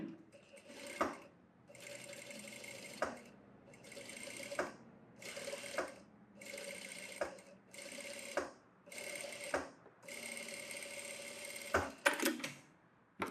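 Sewing machine stitching a blouse made from a saree, running in repeated bursts of roughly a second each with short pauses between, steady and close, with no talking.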